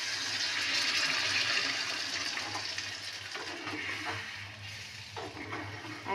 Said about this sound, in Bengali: এবার বন্ধুরা আমি এবার এই জল দিয়ে দেবো।